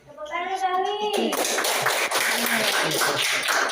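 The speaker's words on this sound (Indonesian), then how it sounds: "Tepuk tangan Alwi." A teacher's voice is followed by a group of children bursting into lively clapping for a classmate, the dense applause continuing to the end.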